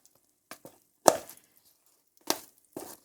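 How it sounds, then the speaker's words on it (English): Cooked vegetables dropped into a hot buttered pan, a few separate soft plops and thuds spaced irregularly over a quiet background, close and moderately loud, no talk. "Let's just put these veggies in here."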